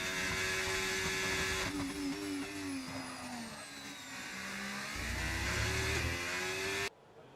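Race cars in a racing video game, warming their tyres on a final stint, give a steady, droning engine whine with shifting pitch and some revving, heard continuously before cutting off abruptly near the end.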